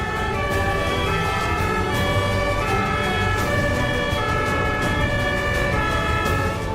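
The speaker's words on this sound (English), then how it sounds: "Here's how Germans react to ambulance sirens, instantly making way for the vehicle." A German ambulance siren wails loud and continuous, its pulsing two-tone pattern holding steady throughout with faint road traffic beneath it.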